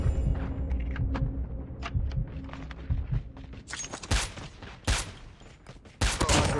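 Sniper fire from the mobile shooter Call of Duty: Mobile, in a snipers-only multiplayer match: repeated loud, sharp shots and impacts at irregular intervals, scattered among busy game effects with no clear talk.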